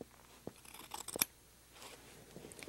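Scissors cut through fabric into bias tape strips, a few close crisp snips and a soft rustle of cloth, quiet overall with one brighter clip in the middle.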